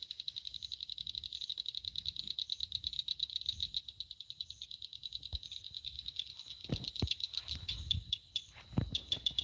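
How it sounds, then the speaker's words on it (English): Frogs calling at night on an off-grid homestead, a dense, steady chorus of rapid pulsing trills carrying on without a break, with a few soft knocks and rustles close by toward the end. "You hear the frogs? They get pretty active at night."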